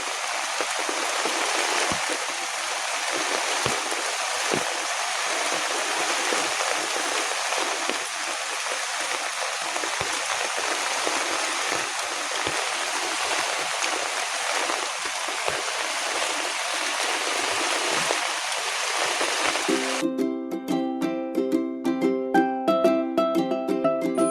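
Water rushes steadily for a long stretch, a constant broadband flow like a stream, before tonal music cuts in near the end.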